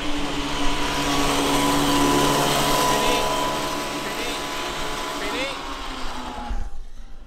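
A kid's go-kart engine on a track drones steadily at high revs, a continuous buzzing whine that holds for most of the clip before dropping away abruptly near the end.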